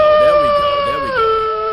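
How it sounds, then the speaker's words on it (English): A wolf howl sound effect plays loudly, long rising and falling howl tones layered in a sustained chorus over nearly two seconds during a live sports reaction stream. "Somebody said the wolf howls."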